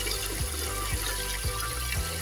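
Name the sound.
water draining out of a tilapia tank drain plug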